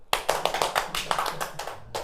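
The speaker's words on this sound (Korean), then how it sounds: "박수!" Students in a science high school chemistry classroom clap their hands in a quick, loud burst of close, sharp claps that trail off after about two seconds.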